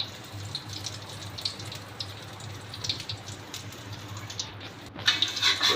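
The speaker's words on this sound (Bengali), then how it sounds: "ডিম ছেড়ে দিচ্ছি তেলের ভিতরে।" Egg frying in hot oil in a pan, a steady sizzling hiss throughout with a few faint crackles and a slightly louder burst near the end, no talking.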